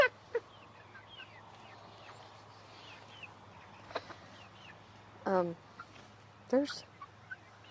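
Chickens cluck and squawk in short, sharp bursts at a backyard coop, with two louder calls near the end over faint steady background hum and brief speech.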